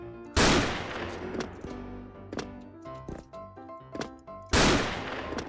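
Two heavy booms from an M82 Barrett sniper rifle in the Special Force shooter game open and close the stretch, loud and close. Lighter clicks and clacks of handling fall between them.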